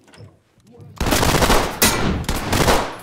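Shotgun blasts in the tactical shooter Ready or Not: a quiet lead-in, then a loud, dense burst of close gunfire with sharp repeated reports, the last two blasts about a second apart.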